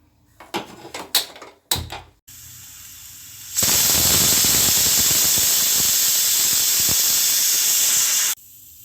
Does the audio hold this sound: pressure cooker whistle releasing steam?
yes